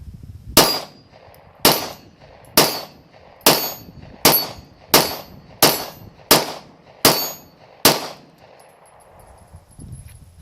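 A Glock 19 pistol fitted with a Saf-T-Lok safety fires ten sharp, loud shots in a steady rhythm about three-quarters of a second apart, each with a short ringing tail, followed by quiet.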